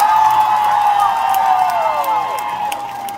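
An audience at a concert in Moscow's MTS Live Hall cheers and shouts in a loud roar that slowly fades toward the end, with sustained high whoops ringing over it.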